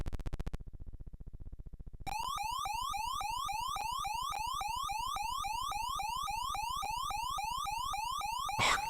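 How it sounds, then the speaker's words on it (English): An electronic car siren sound effect from a shmup video game repeats as a fast series of rising synthetic sweeps, a steady looping wail that begins after a short quieter stretch and runs alone. "What, the sirens for your car as it responds?"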